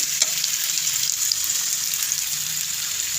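Onion paste frying in a pan for a Bengali amudi fish curry, a steady, fairly quiet hiss and sizzle running throughout with no talk.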